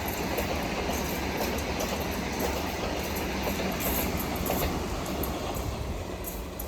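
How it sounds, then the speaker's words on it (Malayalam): Vande Bharat express train, Thiruvananthapuram Central to Kasaragod, rushing through a small station at speed: a loud continuous roar of wheels and carriages with rapid clattering and faint squeal, close by and without speech. "തിരുവനന്തപുരം സെൻട്രൽ കാസർഗോഡ് വന്ദേ ഭാരത് ആണ് കേട്ടോ വരുന്നത്"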